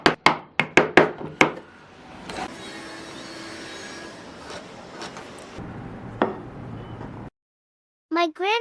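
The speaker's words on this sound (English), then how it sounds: "My grandfather used a handsaw to cut the door frame." A handsaw cuts through a wooden door frame, opening with a quick series of sharp strokes, then settling into a longer steady rasp with a few more knocks before the sound cuts off.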